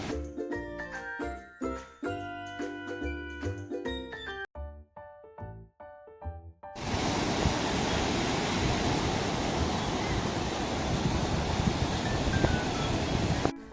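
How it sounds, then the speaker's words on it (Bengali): Strong sea wind and rushing surf at Puri beach fill the second half as a loud, steady roar, coming in after a stretch of jingling music. "এখানে এই যে হাওয়াটা পাওয়া যায়, এতেই নাকি শরীরের রোগ ঠিক হয়ে যায়"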